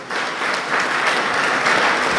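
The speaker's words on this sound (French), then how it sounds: "Je voudrais un peu que vous applaudissiez pour ces deux-là." Steady, dense applause fills an official university ceremony hall in Ziguinchor, an even wash of many hands clapping close and loud throughout.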